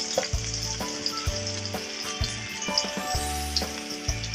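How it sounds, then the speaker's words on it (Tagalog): Garlic and onion sizzle and fry in a pan, with a steady close crackle broken by rhythmic stirring scrapes. "Gisa muna tayo ng bawang at sibuyas."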